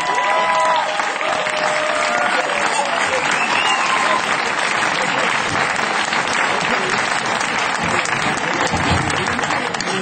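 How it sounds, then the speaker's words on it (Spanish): An audience claps steadily at a night concert by a folk group in Morillo de Tou, a dense, loud, continuous applause lasting the whole stretch with a few voices faintly mixed in. "¡Aplaudiros a vosotros mismos!"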